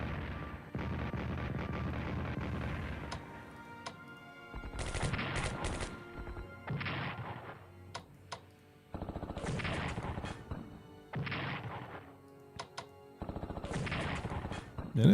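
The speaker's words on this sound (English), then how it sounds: "Ooh, some counter battery fire." Bursts of artillery and gunfire from a Strategic Command WWII battle at Nanking, with heavy booming volleys arriving in several long separate clusters and short cracks between them, loud and without speech.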